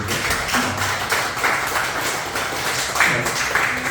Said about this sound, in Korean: 우리 환영의 박수 한번 쳐드리죠